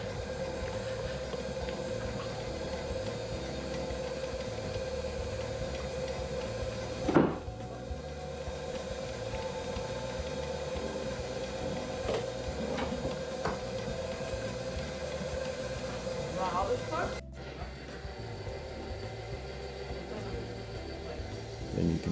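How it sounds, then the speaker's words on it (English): A stand mixer on medium speed churns maple cheesecake batter with maple syrup, vanilla and maple extract. A steady motor whir with a rhythmic low churning pulse runs throughout, with a couple of brief clunks and no talk. "for this step, you set the mixer on medium, add your maple syrup, vanilla and maple extract"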